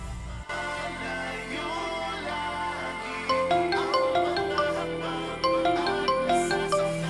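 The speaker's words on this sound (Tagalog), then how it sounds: "Pagtunog ng telepono ko" A melodic electronic ringtone plays steadily, its bright repeating notes growing slightly louder partway through.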